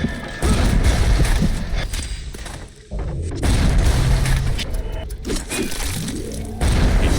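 Loud, dense volleys of gunfire in BioShock: heavy booming shots and crashing impacts fill the stretch, with brief dips between bursts and no clear voices.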